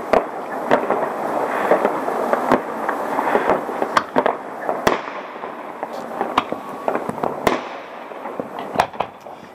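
Sharp firework bangs crack at irregular intervals over a crackling, rumbling wash of distant explosions across a Russian city at New Year 2018.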